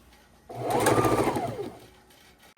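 A sewing machine stitches quilt strips together in one steady run of about a second, its motor whirring up and then winding down, close and clear in a quiet room.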